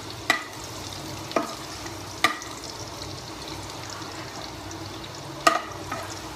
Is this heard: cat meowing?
no